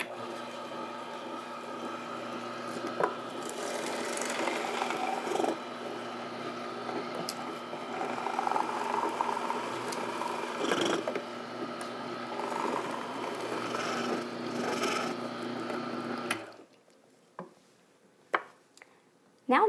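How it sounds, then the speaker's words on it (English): Slow-speed juicer running quietly while juicing greens and vegetables, a soft steady mechanical hum with light ticking and crunching that stops abruptly near the end, leaving a few faint clicks. "I love how quiet this juicer is. It runs at a slow speed and a low temperature"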